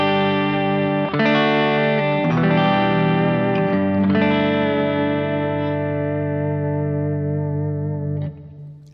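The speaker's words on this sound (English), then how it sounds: "Let's push the coil tap back in and let's go to the middle position." A PRS DGT electric guitar on the middle pickup position strums a few sustained, full chords with a chorus-tinged shimmer that ring out loudly before being cut off near the end, with no voices.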